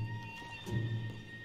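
Horses neigh and whinny in Red Dead Redemption 2 during a train robbery, with a soft, mid-distance whinny over a steady background hum. The neighing is fairly faint and brief, with no clear galloping beat.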